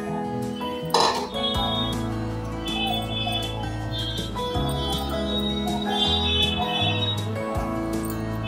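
A spoon scrapes and knocks against a pan while sesame seeds and grated coconut are mixed for tilache ladoo, making repeated metallic clinks and scrapes over a steady hum, with one louder clatter early on.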